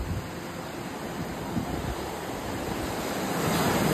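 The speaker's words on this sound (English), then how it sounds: "I never underestimate the power of the ocean." Pacific Ocean waves rolling onto a Los Angeles beach make a steady, broadband surf roar with wind-like hiss, swelling slightly louder toward the end and heard alone without any talk.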